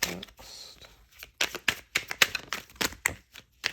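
A deck of written oracle-style cards being shuffled by hand, a soft sustained riffle followed by a quick run of crisp, close paper slaps and flicks at uneven rhythm, with no talk.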